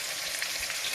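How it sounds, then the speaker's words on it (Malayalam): Onion, ginger and curry leaves sauté in a pan for a Kerala dish, a brief, steady close sizzle with no voices. "ഉള്ളിയും ഇഞ്ചിയും കറിവേപ്പിലയും ചെറുതായിട്ടൊന്ന് വഴറ്റി എടുക്കണം"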